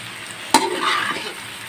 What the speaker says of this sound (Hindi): इसको अच्छे से मैं मिक्स वेल कर लेती हूँ।